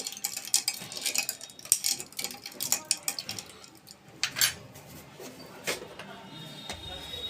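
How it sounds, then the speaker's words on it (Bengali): A spoon clinks and taps lightly and irregularly against a bowl while briefly stirring a cumin-sprinkled water drink, with close, quiet metallic ticks spread across the clip. "চামচে করে অল্প একটু ঘেটে দেবো"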